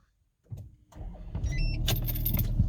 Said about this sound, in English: and then just start the vehicle.